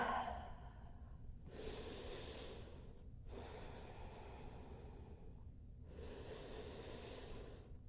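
Slow, deliberate breaths drawn in and let out during a hot flow yoga class in a studio, three long airy swells separated by brief pauses, close and soft with no talking.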